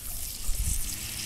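Frozen chicken broth slides and splashes into a camp pot over a campfire, a quiet brief liquid plop and dribble peaking midway, faint and close.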